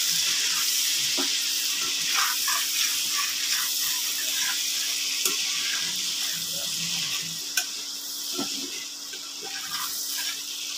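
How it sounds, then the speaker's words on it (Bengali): Quail eggs frying in hot oil in a pan, a steady bright sizzle running throughout with occasional soft pops and clicks close by. "এখন আমি ডিমগুলো এখানে দিয়ে দেবো, ডিমটাকে একটু ভেজে নিতে হবে।"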